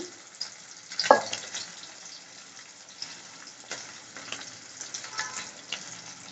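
Onions and green chillies fry in a pan for a gongura prawn curry, making a faint, steady sizzle with occasional stirring clatter and one sharper clink early on; no one talks.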